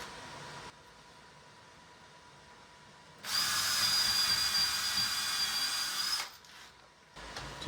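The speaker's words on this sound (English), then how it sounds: "So I'm just going to pre-drill" A power drill fitted with a metal-cutting screw tip pre-drills wood. After a quiet stretch it whines loudly and steadily for about three seconds up close, then stops.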